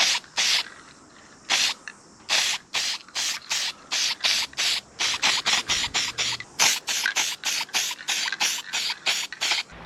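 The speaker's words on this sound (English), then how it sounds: "So I hit the reservoir with 2 coats of primer" A rattle can sprays primer onto a car's coolant reservoir in many short, sharp hissing bursts, some quick and some longer, fired in an uneven rhythm close to the microphone.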